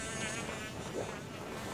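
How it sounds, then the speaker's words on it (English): Wasps in Zelda Skyward Sword drone in a steady, continuous insect buzz, faint and unbroken throughout, with no speech. "How do we get back up there? With wasps behind us?"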